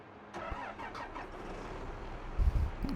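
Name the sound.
tractor engine starting in video game Farming Simulator 22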